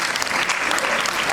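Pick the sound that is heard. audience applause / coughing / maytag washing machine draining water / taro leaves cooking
audience applause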